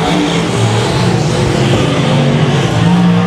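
Super sedan race cars roar around Brisbane Speedway during a heat, a loud continuous engine drone close by with revving and faint tyre skids, dense and unbroken throughout.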